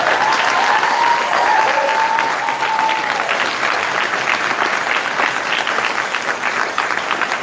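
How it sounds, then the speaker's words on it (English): An audience at a high school board meeting applauds students, a dense, steady burst of clapping that holds at full strength and only slightly thins toward the end, with no voices over it. "let's give them all a round of applause"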